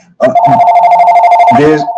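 A telephone rings loudly and close, one steady trilling bell burst of about a second and a half, with a voice starting just as it stops.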